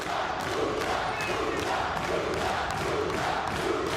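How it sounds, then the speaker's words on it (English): A wrestling arena crowd on its feet, a dense roar of many voices with rhythmic rising chant swells, loud and continuous throughout. "Crowd on his feet, Matt, chanting lucha."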